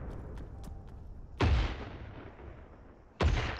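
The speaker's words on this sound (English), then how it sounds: "this mortar here is going to fire 4 rounds off in quick succession" Mortar rounds fire in ARMA 3 as two loud, close booms several seconds apart, each trailing into a rumbling decay over low ambient battlefield noise.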